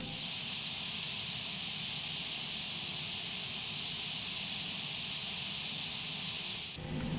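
Boeing 737-800 engines idling as the airliner taxis in the X-Plane 11 flight simulator, a steady broadband whine and rumble holding at an even level throughout with no voices.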